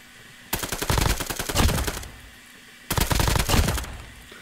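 Rapid automatic gunfire from a gun in Call of Duty Mobile, two sustained bursts of fast, even shots with a short pause between them, loud and close with no talking.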